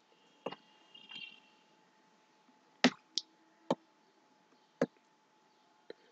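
A computer mouse clicking while choosing Canva design templates: a handful of quiet, sharp clicks spaced irregularly over a near-silent background, with no voices.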